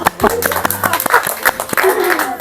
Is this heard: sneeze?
no